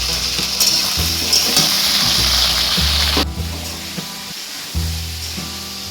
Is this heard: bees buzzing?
no